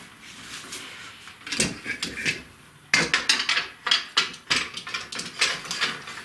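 Metal guide rods for a Bosch RA1054 aluminum router guide clink and clatter as they slide into a router, with a string of sharp, close knocks and scrapes in quick, irregular succession.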